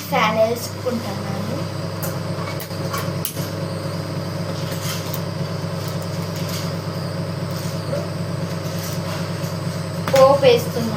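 A kitchen exhaust fan runs in a small home kitchen as a steady, even hum with broadband whir. It holds constant throughout, with light clatter and brief voice-like sounds near the end.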